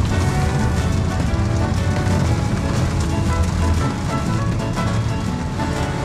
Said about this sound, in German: weil das regnet ja Bindfäden.